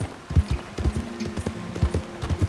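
Horse hooves clip-clop at a steady trot in Red Dead Redemption 2, a regular thudding rhythm of close, moderately loud footfalls with a faint game ambience underneath.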